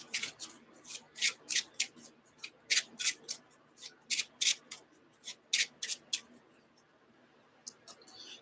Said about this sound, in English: we shuffle the discard pile, which is here